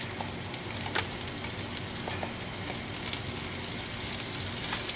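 Bacon frying in a pan with softened onions for spaghetti carbonara, a steady close sizzle with scattered small pops and crackles throughout, no talking.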